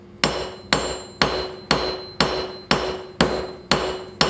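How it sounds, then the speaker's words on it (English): Eight sharp metallic hammer strikes on a nail while building brigandine armor land at a steady, even rhythm, each ringing briefly before the next blow, close and loud with no talking. "that's when you grab back of the hammer"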